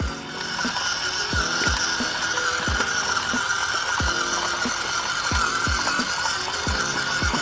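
A WPL C24KM radio-controlled Toyota Hilux truck climbs a hill, its small electric motor whining steadily with rhythmic gear ratcheting and clicking thumps, close and continuous.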